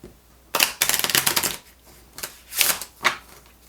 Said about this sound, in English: we're going to shuffle